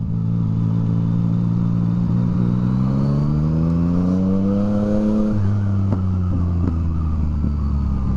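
Motorcycle engines at a bike night on Hayling, a steady loud hum with rising pitch as a bike revs and accelerates past, then settles into a lower drone; no talking.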